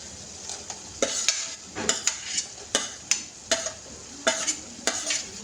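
A spoon scrapes a pan in steady, rhythmic strokes as tomatoes fry in roasted masala for a village-style mutton curry, with a soft sizzle beneath, close and fairly loud.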